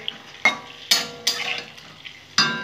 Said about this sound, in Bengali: সেদ্ধ ডিমগুলো ভেজে নেব, লাল লাল করে সেদ্ধ ডিমগুলো ভেজে নেব